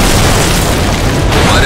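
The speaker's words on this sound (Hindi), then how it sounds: "हमारे बम के धमाके की आवाज आज भी वहां गूंज रही है" A loud, dense bomb explosion boom rumbles from a film trailer, a broad roaring blast filling the short moment at full volume.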